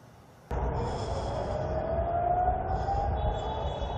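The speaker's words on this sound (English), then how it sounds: "Sirens and explosions heard throughout Israel" An air raid siren suddenly starts and holds a steady wailing tone, fairly distant and sustained over a low background rumble, during missile attacks on Israel.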